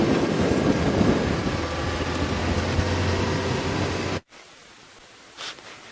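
Cold wind buffets the microphone on a safari drive in an open vehicle, a loud, dense rush that cuts off abruptly near the end and leaves a faint hiss.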